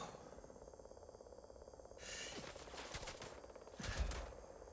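Gunfire in Starfield, a few bursts of shots around the middle and a louder one near the end, mid-distance against a steady low game ambience.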